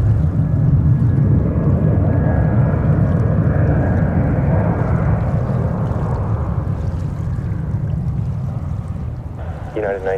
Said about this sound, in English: United 1980, runway 1 left, clear to take off.